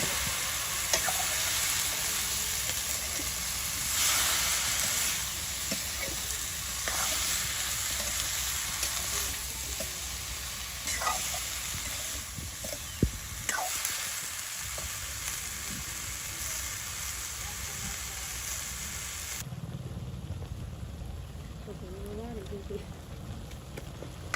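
Sponge gourd frying in hot oil in a pan for a rural Bengali fish dish: a steady, loud, continuous sizzle with occasional stirring scrapes, close up and unbroken throughout.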